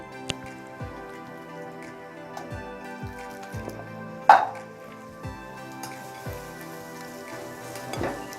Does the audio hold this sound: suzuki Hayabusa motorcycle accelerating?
no